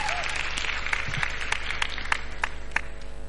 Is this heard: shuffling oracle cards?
no